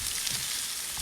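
New York strip steaks sizzle in a hot pan with their fat frying, giving a steady, loud crackling hiss that fills the brief moment without any pause.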